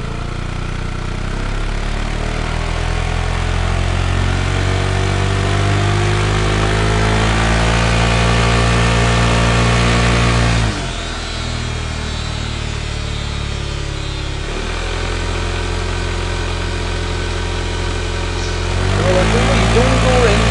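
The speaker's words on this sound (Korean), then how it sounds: "엔진 배기음은 어떤 지금 스쿠터나 요 정도 됩니다." A BMW C400 scooter engine runs with a steady exhaust drone, holding a constant pitch with a brief dip midway, loud and close without speech.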